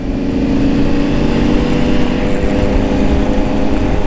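A motorcycle engine runs loud and close, revving in a steady, continuous drone with a rough, throbbing tone and no pauses.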